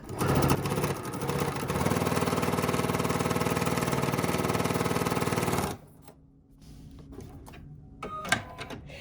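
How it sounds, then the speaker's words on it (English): A sewing machine stitches a quilt block, its motor running in a steady, even whir for about six seconds before stopping abruptly, followed by quiet handling clicks. "I'm just going to stitch right off the edge."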